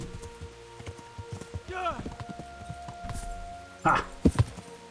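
Horse hooves clip-clopping during a ride in the video game Kingdom Come, with irregular thuds under a voice that talks and exclaims.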